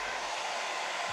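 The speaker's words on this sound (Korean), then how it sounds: "아마 이 터보 버튼을 누르면 한 방에 좀 길게 눌러야 되나, 이렇게 바람이" A JMW Air Collection Pro hair dryer blows on turbo mode with a strong, steady, close rushing whoosh that holds evenly and then cuts off abruptly at the end.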